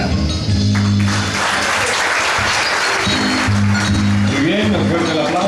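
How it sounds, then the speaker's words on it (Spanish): Audience applause for a winning poem at a poetry contest in La Democracia, Escuintla, steady clapping heard with tonal music or voices layered over it. "un fuerte el aplauso, por favor"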